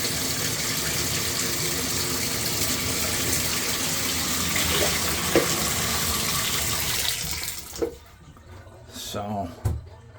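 Water pours and sheets down a waxed shower wall, a steady loud rushing spray that drops off near the end, leaving a few faint drips and thuds.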